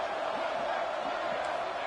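A football crowd roars at a big third-down play, a steady, dense wash of cheering and whoops from a distant stadium audience that holds at the same level for the whole moment.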